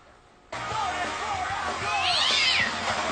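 A kitten meows repeatedly, its cries rising and falling in pitch over a steady background hum, fairly close and continuous for a few seconds.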